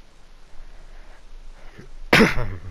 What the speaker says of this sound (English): no coughing in the call